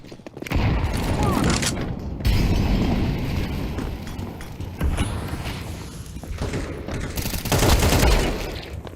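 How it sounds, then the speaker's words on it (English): A grenade explosion and gunfire from a first-person video game, with heavy booms and rolling bursts of shots in several waves at close range, while a player talks over the action. "Grenade out."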